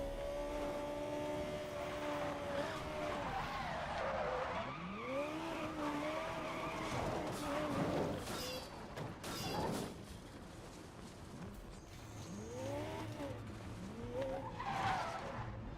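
Racing cars in Need for Speed Most Wanted with nitrous boost, engines rising and falling in pitch through repeated gear shifts, tires squealing and skidding, loud and close throughout.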